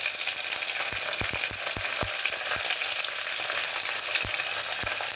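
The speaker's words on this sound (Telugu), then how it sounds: "కరివేపాకు బాగా వేగింది." Curry leaves sizzling in hot oil with a constant frying hiss, punctuated by sharp spatula taps against the pan, near and without speech.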